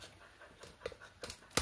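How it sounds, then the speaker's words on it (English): A dog pants softly on a moderately hot day during a toilet siphon repair, a few faint quick breaths and small sniffs in a quiet room, with a sharper knock near the end. "panting noise is my dog."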